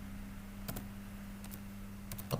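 Typing on a computer keyboard, a handful of sparse, light key clicks spread out over a low steady hum.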